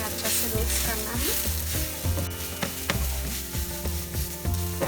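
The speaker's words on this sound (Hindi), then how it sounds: "अभी हमें 3-4 मिनट मूली सॉटे करना है मसाला का साथ" Grated radish sautés with spices and cumin powder in a pan over a medium flame, sizzling steadily while a utensil stirs and scrapes it in repeated strokes.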